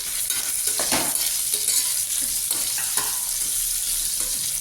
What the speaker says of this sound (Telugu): కొంచెం ఆనియన్స్ ఫ్రై కావడానికి ఉప్పు వేస్తున్నాను, తొందరగా ఫ్రై కావడానికి.